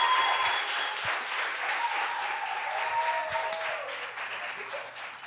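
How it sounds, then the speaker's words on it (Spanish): Strong, steady audience applause greets performers on a television comedy show, filling the room for about five seconds with a few whistles and shouts in the crowd. "Reciba con un fuerte aplauso a los"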